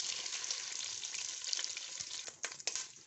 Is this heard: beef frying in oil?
yes